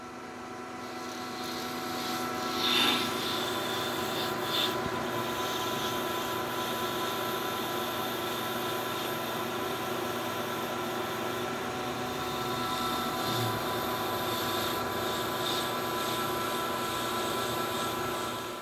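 A metal lathe takes a 0.125 inch first cut on a shop project part, a steady humming whine with a faint high tone, constant and fairly quiet throughout.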